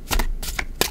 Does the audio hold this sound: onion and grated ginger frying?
no